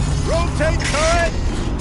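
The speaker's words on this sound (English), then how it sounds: "Rotate turret!" A turret in Horizon Zero Dawn rotates with mechanical whirring and ratcheting clicks. Rising and falling synthetic electronic tones sound over it, loud and close, across a short burst.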